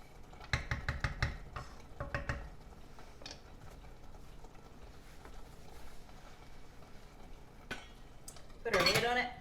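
Pot lid and cookware clanking and rattling while cooking sloppy joe mix on a stove, a quick burst of sharp metallic knocks early, scattered clinks after, and a louder scrape near the end.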